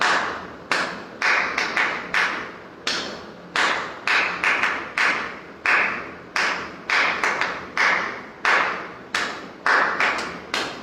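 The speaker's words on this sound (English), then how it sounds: "So to understand the rhythm, let's clap the rhythm" Hand clapping beats out a guitar strumming rhythm for a Watermelon Sugar lesson, sharp close claps in a repeating down-up pattern of quick doubles and singles, loud and alone with no talking.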